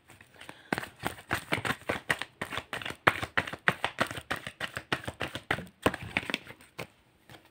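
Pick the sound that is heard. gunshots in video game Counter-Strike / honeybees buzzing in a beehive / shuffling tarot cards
shuffling tarot cards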